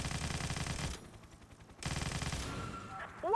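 Rapid automatic gunfire and explosive bursts from the shooter video game 50 Cent: Blood on the Sand, loud and close, with a brief lull before the firing resumes and whooshing effects at the end.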